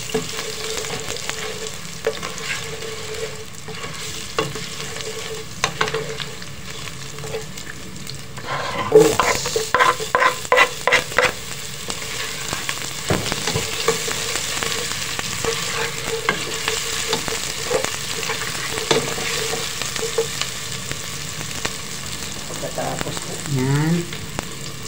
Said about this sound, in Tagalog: Igisa na po natin.